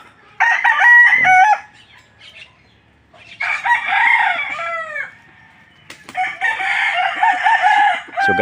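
Pet roosters in a backyard flock crowing loudly at close range, three long cock-a-doodle-doo calls separated by quieter gaps with soft clucking between them.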